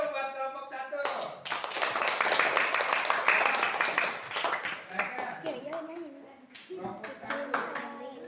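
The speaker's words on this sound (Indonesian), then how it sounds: "Tepuk tangan dulu buat kelompok 1." Classroom applause for a student group about to present during a teaching-practice lesson, a burst of many hands clapping close by that rises, holds and fades, with children's and a teacher's voices talking over and after it.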